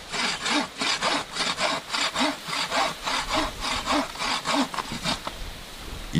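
A bow saw cuts a small tree in the snow, giving steady back-and-forth rasping strokes about twice a second, close and vigorous, with the sawing stopping near the end.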